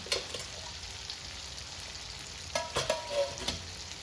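Bottle gourd (lauki) with chili and salt cooking in a pan on low gas, giving a soft steady sizzle, with a few brief stirring clatters and scrapes toward the end and no talking.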